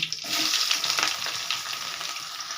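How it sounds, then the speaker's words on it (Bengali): Chopped onions fry in hot oil with bay leaf and whole garam masala, giving a loud, crackling sizzle that starts suddenly and stays dense throughout. "দিয়ে একটু পেঁয়াজটাকে একটু লাল লাল করে ভেজে নেব"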